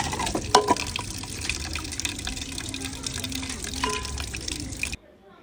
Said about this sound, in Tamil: மஞ்சள் போட்டுட்டு சிக்கனை இந்த மாதிரி க்ளீன் பண்ணி எடுத்து வச்சுக்கோங்க